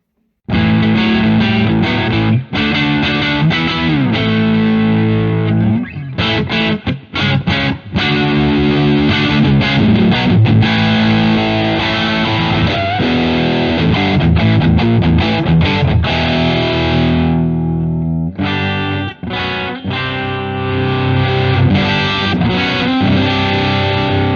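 An electric guitar plays through a Boss OD-3 overdrive pedal with heavy gain, thick crunchy chords and riffs on bridge and neck pickups ringing out loudly with brief gaps between phrases.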